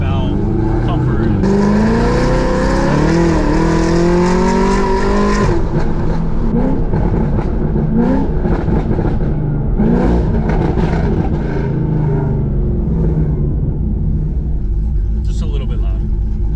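2022 Chevrolet Camaro ZL1 1LE with a cammed V8 rumbling loudly as the engine revs, rising in pitch and then settling into a deep, lumpy idle-like throb, with people talking over it.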